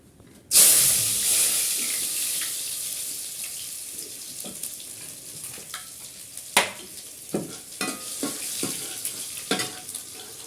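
Garlic dropped into hot oil with asafoetida bursts into a loud sizzle, then settles into a steady frying hiss broken by several sharp stirring clinks and scrapes, with no talking.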